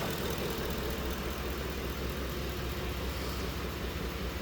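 A 2010 Ford F150 Lariat with the 5.4-liter Triton V8 idles, a low, dense, steady engine rumble heard at length with a faint rapid ticking texture and no voices.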